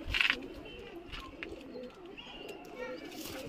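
Big Indian kalsire pigeons from Moradabad cooing in a loft, soft throaty coos and a brief higher call early on, with people's voices faintly underneath.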